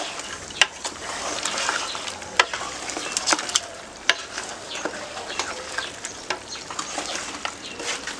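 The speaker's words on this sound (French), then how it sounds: "Je vais mélanger ça dans la bouffe. Mélanger, mélanger." Potatoes and other food sizzle in a pan as they are stirred, with a crackling frying hiss broken by frequent sharp clicks and scrapes of the utensil against the pan, fairly close and without talk.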